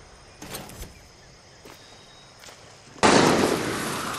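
Gunshots in Far Cry 6 sound as a few sharp distant cracks, spaced unevenly, followed by a sudden louder sustained burst of nearby noise that continues to the end.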